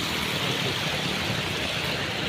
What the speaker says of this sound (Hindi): ਦੇਖੋ ਪੂਰਾ ਜੋਰਾਂ ਨਾਲ ਪਾਣੀ ਚੱਲ ਰਿਹਾ